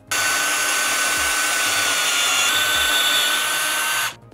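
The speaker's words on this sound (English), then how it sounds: "once we've drilled our holes" A power drill bores a hole into a wooden deck post, running as one steady, loud, high whine for about four seconds before stopping abruptly.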